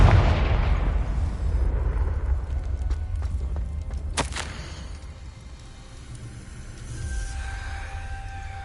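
Confringo blasting spell explosion in a Harry Potter video game: a loud rumbling blast that fades, followed by a sharp crack and lingering low rumble with game ambience, no talking.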